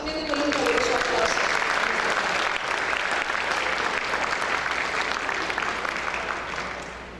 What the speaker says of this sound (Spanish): También démosle un caluroso aplauso